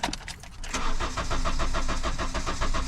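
A Honda CR-V with 251,000 miles that runs rough cranks with a few quick whirring turns, then catches and settles into a loud, uneven, pulsing idle close by.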